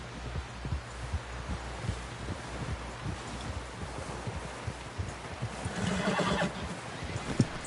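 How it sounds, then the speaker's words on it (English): A horse in the video game Red Dead Redemption 2 whinnies and snorts over steady hoofbeats clip-clopping, with rustling in the background; the whinny swells louder near the end. "Someone help John down off this horse."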